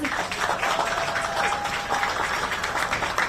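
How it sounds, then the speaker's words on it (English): Crowd at a store's grand opening applauding, a sustained, fairly loud round of clapping with a faint tonal hum running under it. "I think they deserve a big round of applause,"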